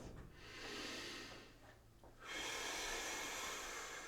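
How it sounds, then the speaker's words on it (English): A person takes a big, slow breath during a mobility exercise with the spine peeled partway off a wall. The airy inhale and exhale are soft and close, with no talking. "In this position, take a big breath."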